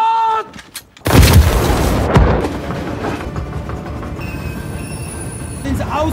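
A grenade blast bursts loud and broadband in a World War II film about moving Norway's gold reserves to Canada, followed by a sustained rumbling roar of battle and gunfire after a brief quiet lead-in.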